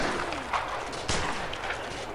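In a Prison Architect prison riot, guards fire guns with a few sharp distant bangs over a dense, noisy game background.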